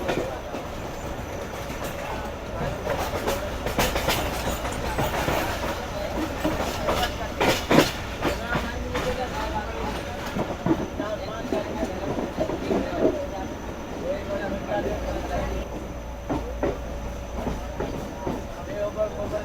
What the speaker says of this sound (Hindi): वायरलेस गेट के पास से गुजर रही है इस वक्त हमारी ट्रेन।